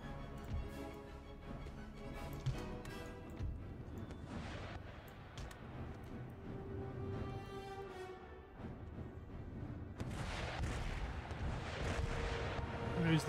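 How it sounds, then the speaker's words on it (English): Artillery and musket volleys in the battle game Empire: Total War, a steady, distant rumble of booming shots that swells again near the end, with no voices. "The artillery fire"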